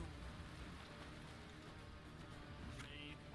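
Soft, steady rain patters in the Gwent card game's weather effect, a faint continuous hiss of falling drops with no talk over it.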